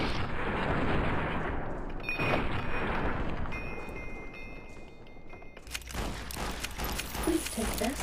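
Brush gun fired in a video game, a series of sharp booming shots and crashing blasts over several seconds, loud and close with a brief lull before more bursts.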